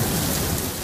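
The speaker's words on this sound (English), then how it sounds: "Listen to this thunder." Thunder and pouring rain in Alpine, San Diego, a dense continuous roar of rain blended with a low rumble, loud and close for under a second.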